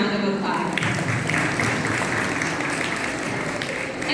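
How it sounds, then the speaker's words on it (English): Sustained applause from visitors at an Islamic Center community event, a dense, even roar of clapping that fills the space throughout, with faint voices underneath. "Let's give them another round of applause."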